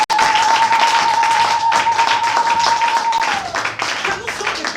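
A church congregation breaks into loud, sustained applause, dense clapping filling the room with a steady tone ringing underneath, gradually thinning toward the end.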